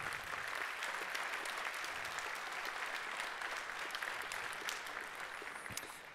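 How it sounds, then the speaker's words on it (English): Audience applause at an inauguration ceremony for a pulp mill: a continuous, even round of clapping from a crowd, moderately distant and unbroken, without speech over it. "Lars Idemark, CEO of Södra Group, please, an applaud."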